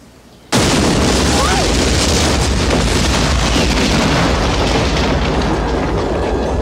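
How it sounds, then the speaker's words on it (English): A sudden loud explosion bursts in and keeps roaring as a dense, sustained rumble for several seconds. "explosions don't rest. They either explode or they don't."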